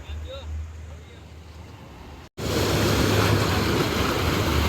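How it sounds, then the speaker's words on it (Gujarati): Water rushes under strong pressure: a quieter stretch gives way, after a brief cut, to a loud, steady, close rushing roar. "પાણીનો પ્રેશર જો કેટલો હોય."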